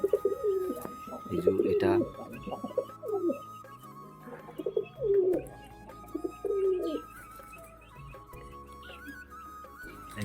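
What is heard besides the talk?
pigeons cooing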